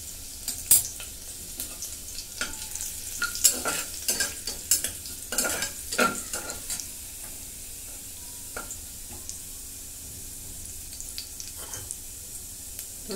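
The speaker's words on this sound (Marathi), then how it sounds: "तेल ओतले कुकरमध्ये तेल ओतून घेतले, जिरं टाकून घेतलं." Cumin and garlic fry in oil inside a pressure cooker, with an early burst of spoon scraping and clanks against the metal that settles into a quieter, steady sizzle.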